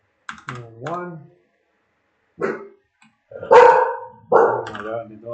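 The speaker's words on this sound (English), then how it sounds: "Oh my god, the dog." A dog barks in a few loud, close bursts separated by silence, with a person talking near the start, set in a home office where keyboard typing is also picked up.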